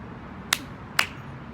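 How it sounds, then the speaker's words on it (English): Two sharp hand claps about half a second apart during a children's summer music session, crisp and close in an otherwise quiet room. "You clap 2 times."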